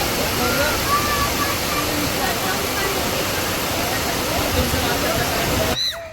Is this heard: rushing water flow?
yes